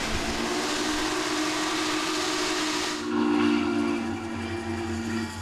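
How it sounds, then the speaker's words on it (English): A loud steam whistle from steam locomotive 611 blows steadily over hissing steam, then cuts off, leaving the chuffing rumble of the running locomotive close by, heard through open windows. "the best way to experience the steam engine is with the windows down so you can hear it"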